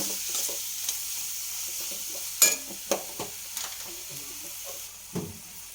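Boiled egg rice mixture is stirred in a pan with a spoon scraping through it, a few distinct clicks and knocks standing out over a faint sizzle, close up and with no talking.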